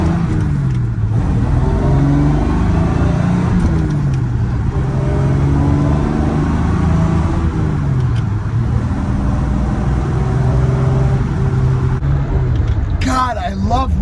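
A 1967 Jaguar Series 1.5 4.2L Euro-spec 2+2 winds out through its 4-speed synchromesh manual gearbox, the engine droning loud and steady as pitch rises and falls through the gears, with a voice talking over it.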